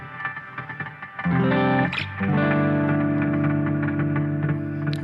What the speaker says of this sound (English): I'm going to increase the reverb volume on that side by letting the direct mix through on the slicer.